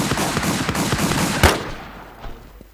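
Gunfire in the online survival shooter WarZ, with a dense, rapid burst of automatic shots for about a second and a half, one sharp loud report, then a quieter tail with a faint distant shot.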